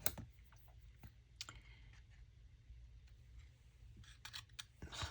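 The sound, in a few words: cutting folded paper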